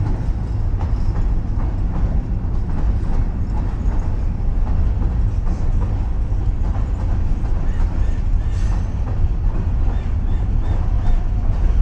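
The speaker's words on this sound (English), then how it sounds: "I'm going to let you watch as the train comes by" A train rumbles past close by, a steady loud roll with faint clicking of wheels on rails throughout, no voices.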